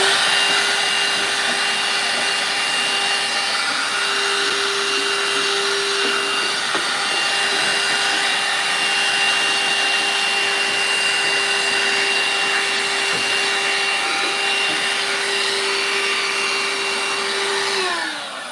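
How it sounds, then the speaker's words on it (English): A vacuum cleaner runs steadily and loudly, sucking up foam in a slot car garage workshop, its constant motor whine holding for about eighteen seconds before starting to wind down at the end, with no talking. "Vacuum."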